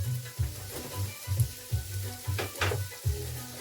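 Garlic dropped into a hot pan sizzles and crackles in short repeated bursts, close and moderately loud, with brief stirring scrapes between them.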